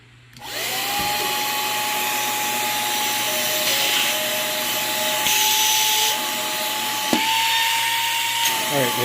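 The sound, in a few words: small electric exhaust fan on a model build running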